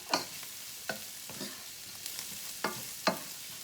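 Garlic sizzles in a pan and gets stirred with a utensil, a few soft scraping strokes spaced irregularly over a faint, steady frying hiss, close and fairly quiet.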